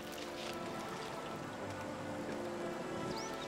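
Rain falls steadily outdoors on a desert island, a continuous soft patter and hiss of drops at low, even loudness with no voices.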